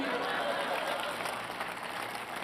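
An audience at a Hindi comedy poetry recital claps steadily for a couple of seconds, a dense even wash of applause with no speech over it.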